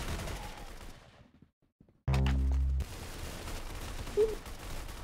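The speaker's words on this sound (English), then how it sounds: "I'm getting shot in the back." Gunfire in a Roblox game: a loud, sustained burst of rapid shots lasting under a second, breaking a quiet pause, with busy game sound around it.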